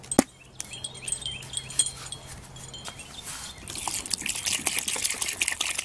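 Water trickles and pours into a Portland cement mixture for mushroom-shaped yard decorations, a close, steady liquid gush building louder through the second half, with no talk.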